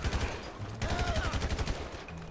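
Rapid automatic gunfire in GTA V during a street gang fight, two fast bursts of repeated shots with a short break between them, close and punchy.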